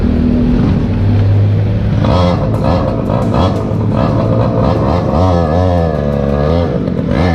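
A loud small sport motorcycle engine with a cut-off exhaust runs close by, its pitch rising and falling as it revs repeatedly, with steady rumbling underneath.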